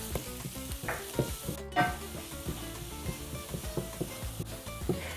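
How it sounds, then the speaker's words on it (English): Minced garlic and onions sautéing in a hot pan, a bright continuous sizzle with rhythmic spatula scrapes and stirring clacks, close and steady throughout. "Add the minced garlic and saute for about a minute or 2."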